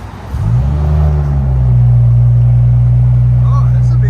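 A 2017 BMW 740i with a 3.0L turbo inline-six and a muffler delete revs up close, its pitch rising and then holding as a loud, sustained drone.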